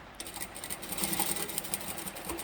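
A sewing machine stitches a fabric bowl cosy made from 10-inch layer cake squares, its steady, close mechanical whir running without pause and no voice over it.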